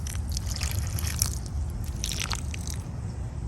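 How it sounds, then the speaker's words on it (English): Rainwater poured into sand in a homemade butterfly puddling station, giving a continuous soft trickling and dripping with wet squishy settling throughout, steady and close. "now I'm just gonna pour my rainwater in."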